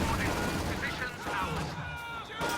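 Gunfire and explosive blasts, including a rifle grenade, ring out in a Company of Heroes 2 battle, close and loud bursts layered under a commentator's steady talk.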